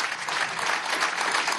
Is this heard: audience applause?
yes